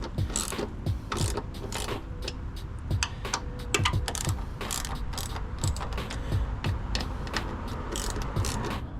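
Screws come out of a Honda S2000 front bumper with a ratchet tool, giving quick bursts of sharp clicking and ticking separated by short pauses, close and fairly faint.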